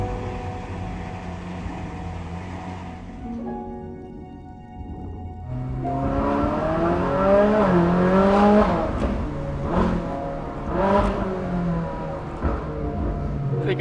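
Ferrari engine droning and revving as the car drives, a rising and falling tone that swells from moderate to louder with several sweeping rev changes, heard without speech.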